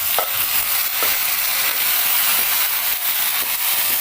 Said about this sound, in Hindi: ये चिकन है, अब इसको भूज रहे हैं।